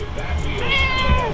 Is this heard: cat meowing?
yes